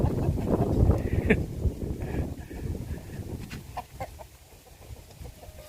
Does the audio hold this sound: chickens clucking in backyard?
yes